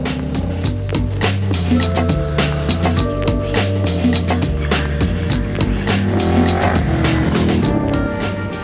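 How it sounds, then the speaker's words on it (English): A 2023 Yamaha Ténéré 700 motorcycle ridden off-road on dirt, its engine droning steadily and loud throughout with constant rhythmic pulsing and rattling ride noise, no talking. "First impressions of the new bike riding off-road are solid."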